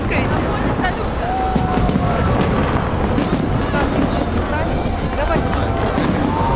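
New Year fireworks salute in Zaryadye, Moscow, booms and crackles continuously amid a dense outdoor crowd hubbub, with faint whistles rising through the steady roar.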